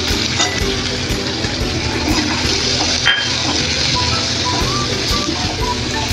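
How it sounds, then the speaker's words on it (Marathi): Onion frying in oil left from frying dried shrimp, a dense, loud, unbroken sizzle close by with little else. "आता ह्याच तेलामध्ये आपलं जे तेल आपण त्यात सोडे तळले त्यातच आपण हा कांदा टाकतोय।"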